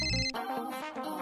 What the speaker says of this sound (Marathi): 5 मिनिटात तिसरा फोन.